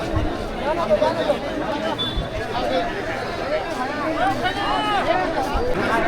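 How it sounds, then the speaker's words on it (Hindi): Dense crowd bustle at the crowded three-day Gidam market cockfight in Bastar, a continuous hubbub of many overlapping voices and chatter close around, steady throughout. "बहुत ज़्यादा भीड़ है भाई"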